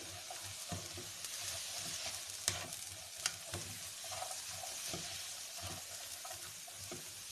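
Egg fried rice seasoned with soy sauce and black pepper is stirred in a hot pan, a soft continuous sizzle broken by repeated scraping strokes and a couple of sharper clinks of the utensil against the pan.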